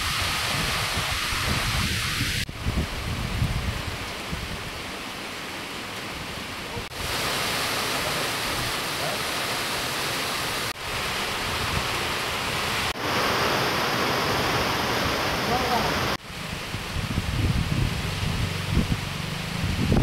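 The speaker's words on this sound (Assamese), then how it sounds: "কিমান বৰষুণ আহি আছে" Heavy rain pours down as a dense, loud, continuous hiss that fills the whole stretch, broken by a few abrupt cuts between takes, with low rumbles underneath and no voices.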